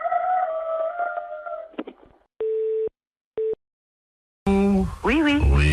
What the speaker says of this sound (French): Est-ce que je peux parler dans l'oreille de votre coq?